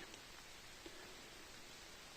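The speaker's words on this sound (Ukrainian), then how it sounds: "похмуро в лісі, туманно, паде дощик." Light rain falling in a foggy, gloomy autumn forest in the Carpathians, a faint, steady hiss of drops with no voices.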